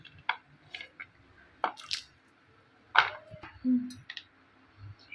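Well-roasted ingredients are broken apart by hand, giving a series of faint, sparse crisp snaps and crackles with short pauses between them, close by and quiet.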